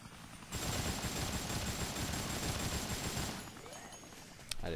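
Machine gun fire in Dead Rising, aimed at a helicopter's tail rotor in a park, sounding as a loud rapid burst lasting about three seconds, then fading into quieter mechanical noise with a sharp crack at the end.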